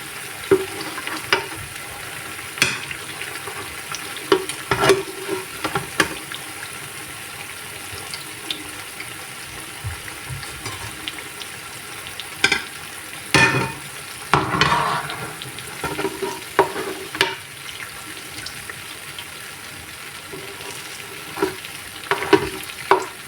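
Jackfruit bora pitha fry in hot oil over a medium flame with a steady, close sizzle, broken by occasional clatters and stirring scrapes as the fried pieces are lifted out.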